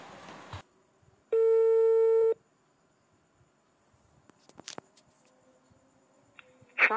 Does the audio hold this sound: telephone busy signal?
yes